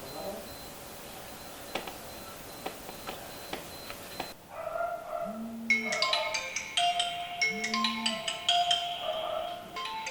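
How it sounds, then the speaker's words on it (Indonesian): Faint clicks and ticks give way to a phone ringtone, a bright looping electronic melody that rings on loudly for several seconds. "ini ngapain sih Kuple nelfonin gua?"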